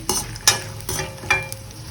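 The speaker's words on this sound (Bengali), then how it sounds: "বাদামগুলো একটু ভালো করে ভেজে নিচ্ছি" Peanuts frying in oil in a wok, a close sizzle punctuated by four sharp spatula scrapes in an uneven rhythm.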